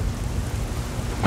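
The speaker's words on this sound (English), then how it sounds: "I know it's raining." Steady rain in the video game Ghost Recon Wildlands hisses in a dense, even wash, with a low rumbling undertone and no voices.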